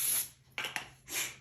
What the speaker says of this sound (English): you're going to lightly spray the pan with some cooking spray,